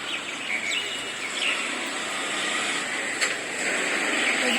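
Birds chirp near a small water pond by a school playground, scattered high tweets over a steady airy background hiss, moderately close with no talk.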